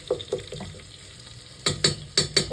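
Onions frying in oil in a pan for a barley couscous with beef and vegetables, with a few stirring scrapes and sizzling bursts, quieter at first and then louder, repeated rhythmic strokes close by.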